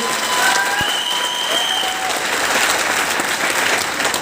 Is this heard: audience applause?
yes